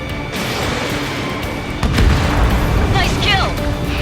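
A missile explosion in the Ace Combat 7 combat flight game lands as a heavy boom midway through, over steady jet and cockpit rumble, with sharp whistling streaks following.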